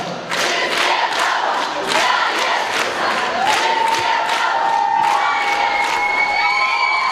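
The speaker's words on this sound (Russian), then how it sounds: "Wszystkie brawo dla Jezusa!" A large crowd at a Christian music event cheers and applauds for Jesus, with loud continuous clapping and sustained shouts and whoops filling the hall.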